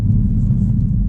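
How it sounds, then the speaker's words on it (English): Engine of a 2019 Subaru STI while driving, a steady, loud, low droning rumble that holds evenly from start to finish with no breaks. "it's kind of got like this almost like whining sound from the engine"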